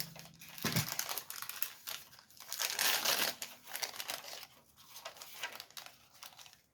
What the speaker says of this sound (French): Je te laisse ouvrir les sacs.